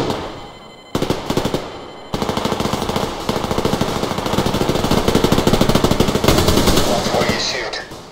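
Rapid automatic gunfire in the shooter Survarium, long sustained machine-gun bursts firing close and loud, with a brief pause early on before the shooting resumes in a steady hammering stream.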